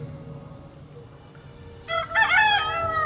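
A rooster crows in Hogwarts Legacy, a loud harmonic cock-a-doodle-doo rising clearly over quiet game ambience in the last second, with no talking.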